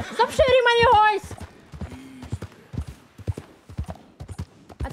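Horse hooves clip-clop in Red Dead Redemption 2, a steady run of sharp knocks heard under a voice talking over the gameplay.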